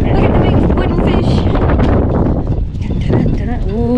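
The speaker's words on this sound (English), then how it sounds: "And it's windy. Definitely windy." Strong wind gusts buffet the microphone outdoors in a historic fishing town, a loud continuous roar under people talking.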